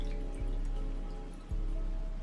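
Water drips and splashes as a homemade DIY bouncy ball is lifted out of its water bath, a steady wet trickle with two soft drop impacts, close and quiet, with no talking.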